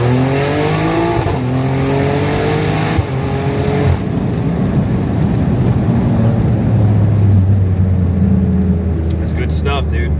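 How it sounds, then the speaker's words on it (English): A catless 600hp BMW X3 M on an MHD Stage 2 tune pulls hard in second gear, its loud engine note climbing steadily in pitch from inside the cabin, with road and tyre roar underneath. "Let me give it a little launch so you guys could see. Second gear, do it a little bit."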